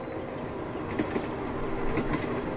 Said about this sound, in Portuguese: o som dos trilhos preenchia o vagão